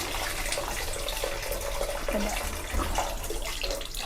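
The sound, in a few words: water running as someone washes in a bathroom outside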